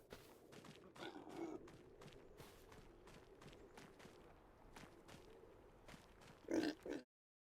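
Pigs in the Farming Simulator 25 video game, heard as soft grunts and oinks alongside shuffling, step-like sounds, fairly quiet, with a louder burst of grunting near the end and no talk.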